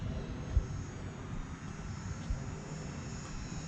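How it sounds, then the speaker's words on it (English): An E-Flite UMX Cirrus SR22T radio-controlled brushless model plane flies overhead, a faint steady electric motor buzz over outdoor field noise, with a couple of soft low thumps. "With these brushless UMX planes, they definitely have a lot more speed and power than all the originals."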